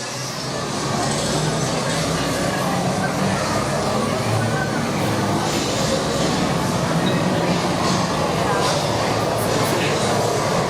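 A loud, continuous rumble of the Hogwarts Express train ride at Universal Orlando fills the space, with indistinct crowd chatter and noise mixed in.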